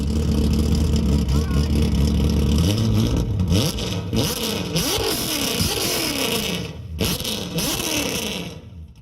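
A 6-litre LS3 V8 swapped into a BMW E30 in GTA Online revs hard, a loud steady roar that climbs through repeated rising sweeps and dips between shifts.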